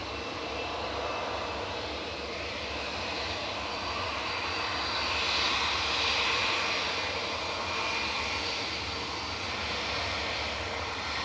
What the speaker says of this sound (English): We've got a 24-year-old A321 Classic going back to Munich, flight 2505